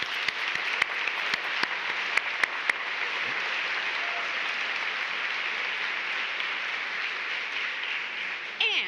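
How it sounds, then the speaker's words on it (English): Applause from the audience at a Citizen of the Year event for sponsors: steady, sustained clapping throughout, with a few sharp louder claps early on and a fade at the end. "Let's give them a round of applause."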